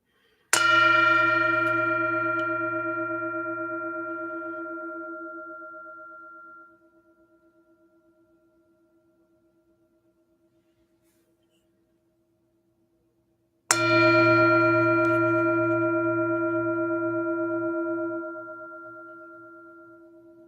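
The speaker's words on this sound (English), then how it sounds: "I invite you to enjoy the sound of the bell in this moment" A mindfulness bell at a Sunday mindfulness service is struck twice, about thirteen seconds apart. Each strike rings out clearly with a bright metallic attack, then a long, slowly fading hum of sustained overtones, with silence between.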